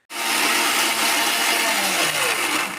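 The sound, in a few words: mixer grinder blending roasted masala spices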